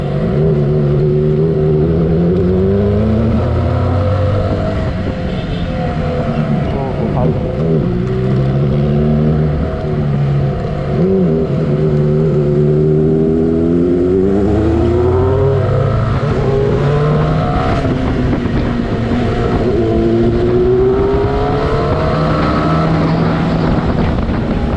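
A Honda CBR 600RR motorcycle fitted with a TOCE exhaust revs repeatedly on a ride, its loud rising and falling engine note sweeping up and down over steady wind rush from close by.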